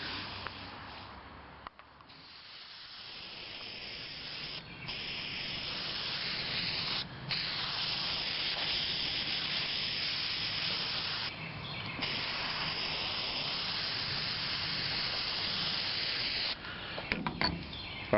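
A spray can hisses adhesive onto package tray material for a car's rear window shelf, a long steady spray with brief pauses between bursts, close and continuous, with no talk.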